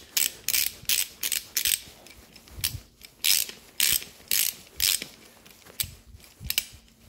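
A ratchet wrench snugging down the cylinder head bolts on an Austin Healey engine, a close, steady series of sharp clicking bursts in regular strokes, each a rapid ratcheting rattle, with no talking.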